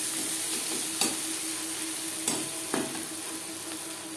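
Onions being stirred and fried in oil for a data shak dish: a soft, steady sizzle with three sharp utensil scrapes against the pan at irregular intervals, close and fairly quiet.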